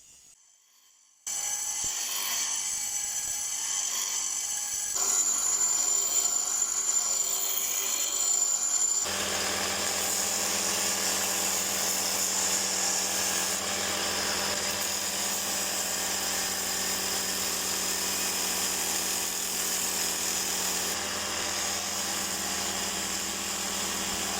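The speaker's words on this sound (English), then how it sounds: "it's time to do some more grinding" A small twisted damascus steel dagger being ground, with a steady, continuous high abrasive rasp that starts after a brief silence and grows louder and denser partway through, running on without pause and close up.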